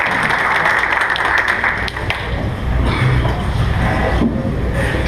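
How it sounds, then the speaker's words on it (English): Applause from an audience saluting sheriff's candidates at a political debate in Chipley, Florida, a steady loud wash of clapping with crowd noise and low rumble throughout. "How about a big round of applause for all of our sheriff's candidates?"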